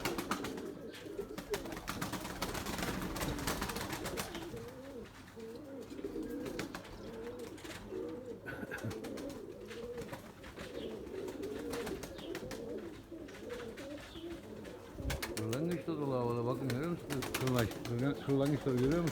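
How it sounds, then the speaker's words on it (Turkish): Pigeons coo in a steady, continuous murmur at close range, the soft rolling calls persisting throughout while someone talks in Turkish over them. "Bu kuş ya bir yere atıyor, geri geliyor."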